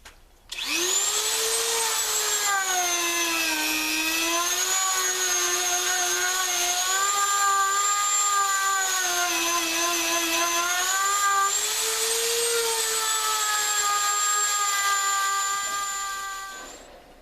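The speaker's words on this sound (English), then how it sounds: "So I'll start by Dremeling out these grooves nice and smooth" A Dremel rotary tool grinds grooves into knife handle scales, a continuous high-pitched whine that starts abruptly and holds close and loud for about sixteen seconds, its pitch wavering slightly under load before fading.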